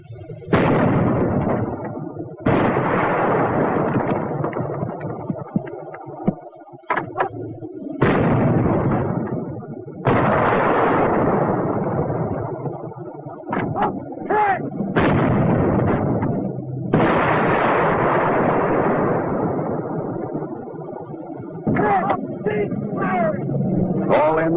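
World War II artillery fire: a series of heavy, booming blasts with long rumbling decays, loud and spaced several seconds apart, with voices talking between and under them.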